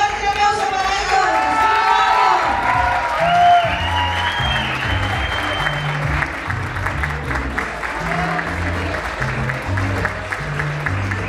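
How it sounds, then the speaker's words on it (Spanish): At a salsa dance gala in a disco, a crowd applauds and cheers for a dancing couple while an announcer talks over the start. A thumping dance beat rises underneath as the clapping continues. "Fuerte aplauso para ellos."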